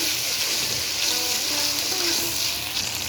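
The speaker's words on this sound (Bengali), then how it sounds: "সব বাটা মশলা অল্প একটু জল দিয়ে মশলাটাকে ভালোভাবে কষে দিই" Ground spice paste fried with a splash of water, sizzling loudly and continuously at close range, with a dense bubbling hiss and faint stirring underneath.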